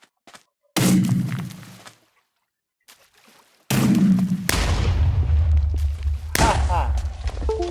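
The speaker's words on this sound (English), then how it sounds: "And that was the timed bomb." A timed bomb goes off in Minecraft with loud, close booming blasts: one burst, a short silence, then several more heavy explosions rumbling back to back.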